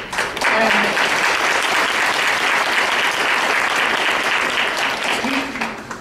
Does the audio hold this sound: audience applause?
yes